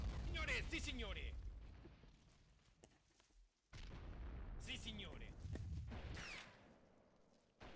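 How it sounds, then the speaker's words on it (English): World War I artillery strikes in a video game land as deep booming blasts with rumbling tails, two main bursts separated by a short lull, fairly loud, with a voice speaking over them. "It greatly simulates like artillery strikes in World War I."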